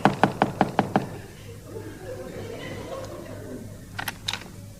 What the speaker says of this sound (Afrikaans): Klop aan die deur.